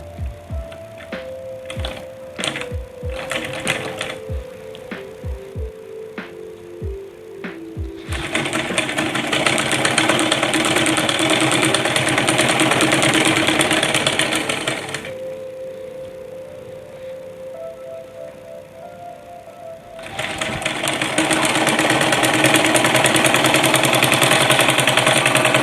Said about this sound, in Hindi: अब हमें हल्की हल्की तिरछी सिलाई लगानी है।